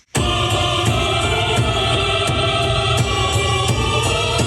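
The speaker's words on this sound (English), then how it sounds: "introduce the main melody with cataclysmic choir, then layer in pounding taiko percussion" Dense, loud orchestral choir sustains a massive chord while heavy drum hits pound at a steady pulse underneath, continuous and booming throughout.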